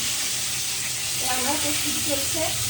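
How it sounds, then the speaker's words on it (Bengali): Snake gourd sizzles steadily in a frying pan, a close, continuous hiss with a few soft stirring scrapes, while a voice speaks over it in the second half. "চিচিঙ্গে ভাজা হলো"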